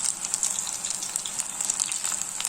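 Battered snake gourd pieces fry in hot oil, a continuous bright sizzle with small popping crackles, close and steady with no talking.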